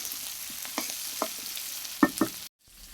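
Pieces of raw jackfruit fry in hot oil with a soft continuous sizzle and a few sharp stirring clacks near the end, followed by a sudden cut to near silence.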